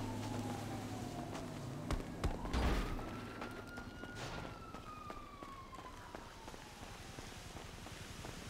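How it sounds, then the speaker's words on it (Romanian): A police car siren in a video game wails in long rising and falling sweeps, steady and moderately loud over a rumbling background, with a short burst of noise partway through. "Aia face ca mașina de poliție"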